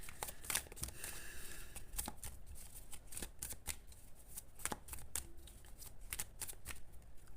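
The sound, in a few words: shuffling tarot cards to draw one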